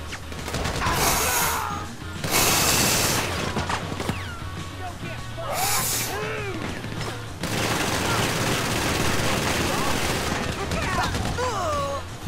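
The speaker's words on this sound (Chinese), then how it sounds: "睇下 Michael 点样，佢又扫爆咗部车，一定爆炸。" Gunfire in the video game GTA V Online as a car is shot up, with repeated bursts of rapid automatic shots and crashing impacts, loud and close, while someone talks over the action.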